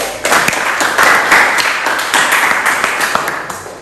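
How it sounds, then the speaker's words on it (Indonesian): Students in a biology classroom break into dense, steady applause, many hands clapping together loudly and close for several seconds with no talking. "berikan tepuk tangan dulu"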